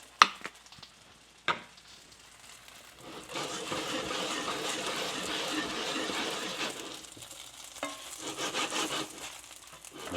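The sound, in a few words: dumplings frying in oil in a HexClad pan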